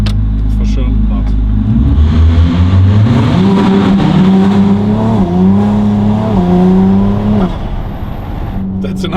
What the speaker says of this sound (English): Sounds that for you like a V6? No, for sure not.